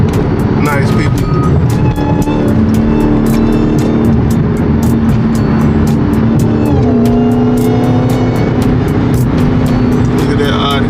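A Dodge Charger Hellcat's engine rumbles steadily in slow traffic, a loud continuous low drone with small swells, while people talk over it throughout.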